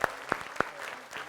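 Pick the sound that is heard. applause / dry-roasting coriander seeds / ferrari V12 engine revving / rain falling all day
applause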